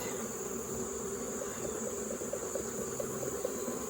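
Honey bees at an opened hive keep up a constant dense buzz, close and unbroken, with no voices.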